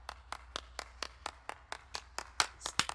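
Slow, sparse clapping, a dozen or so distinct claps at an even pace, close and moderately loud, with a couple of sharper claps near the end, like a lone or small sarcastic round of applause.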